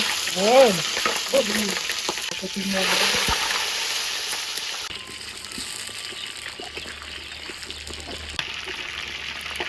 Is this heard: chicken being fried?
yes